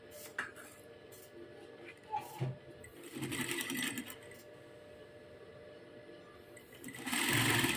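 A sewing machine stitching a sleeve seam one inch in: a faint, intermittent whirring hum that starts and stops, with light clatter, soft talk and handling noise around it, loudest near the end.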